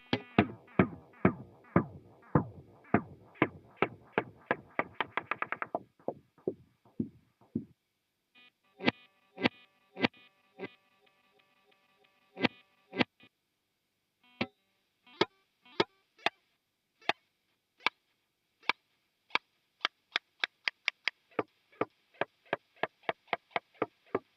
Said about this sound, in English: Let's see if I can get it to self-oscillate without giving it any signal.